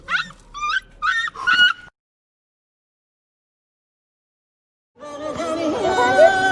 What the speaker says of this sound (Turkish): Köpek geliyor.